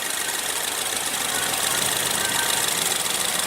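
A 2015 Ford Fusion with a 2.0-litre four-cylinder turbo EcoBoost engine idles steadily nearby, a continuous mechanical hum and clatter with no talking over it.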